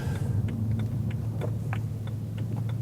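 A low BMW E92 M3 on Öhlins Road and Track coilovers rolls over a bumpy road, steady engine rumble inside the cabin with scattered knocks and rattles from the suspension hitting bumps.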